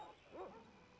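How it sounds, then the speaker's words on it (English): Guard dogs in the video game Broken Sword: Shadow of the Templars give one brief, faint bark midway through an otherwise quiet moment. "I needed to set the dogs off first."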